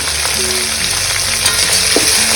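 Sliced onions with rock salt sizzle loudly and steadily in hot oil in a pan, a dense continuous crackle with no voices.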